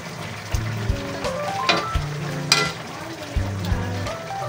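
Eggplant hits a hot pan for boneless bangus binagoongan and sizzles softly, with utensil clinks and pan scrapes punctuating the frying. A faint voice is heard in the background.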